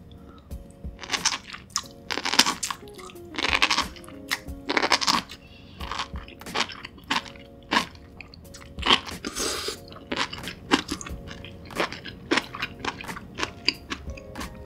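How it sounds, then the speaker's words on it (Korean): Mushrooms being bitten and chewed during a seafood and spicy noodle meal, with close, crisp crunching and wet chewing bursts repeating steadily throughout and no talking. "라면 익는 동안 버섯부터 한번 맛볼게요."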